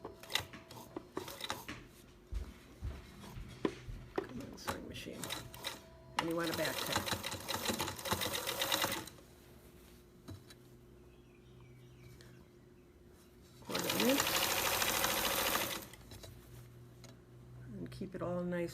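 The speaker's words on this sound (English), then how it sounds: "Come on, sewing machine." A sewing machine stitches a drawstring bag casing in two loud, steady bursts of rapid whirring between quieter handling clicks and rustles.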